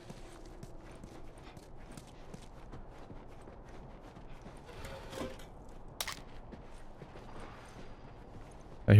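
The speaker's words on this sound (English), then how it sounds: "I hear the horse." Horse hooves clip-clop faintly and steadily in the distance in The Last of Us, set against a low ambient game soundscape, with a brief sharp noise near the end.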